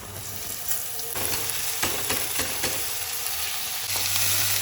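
Vegetables being added to a frying tadka, producing a loud, continuous sizzle with scattered stirring scrapes and clatters, close up and with no talking.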